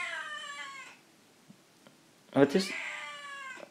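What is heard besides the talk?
cat meowing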